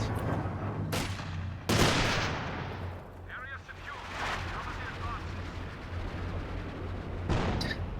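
Gunfire and sniper shots in a video game battle, with sharp loud cracks at intervals over a low rumble and scattered distant shots, while a voice talks over them.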